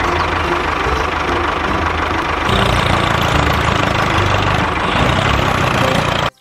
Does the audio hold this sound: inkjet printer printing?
no